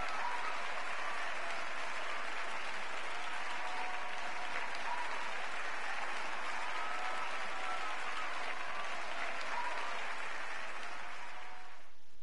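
Studio audience applause on the Wheel of Fortune game show, a steady sustained wash of clapping from a large crowd that holds for about twelve seconds before cutting off abruptly.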